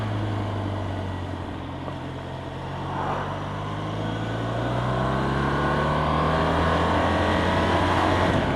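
A car engine pulls steadily while driving on a road and shifting up into fourth gear, its drone rising in pitch with gradual acceleration, continuous and fairly close, with no talk.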